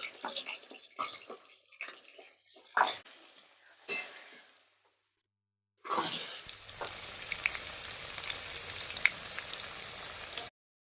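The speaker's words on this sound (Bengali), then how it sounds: "আলুগুলো ভাজার জন্য সর্ষের তেল দিয়ে দিচ্ছি" Potatoes frying in mustard oil with a little turmeric, first a run of separate clatters and splashes as they go into the pan, then a brief silence and a steady, close, crackling sizzle with no voices.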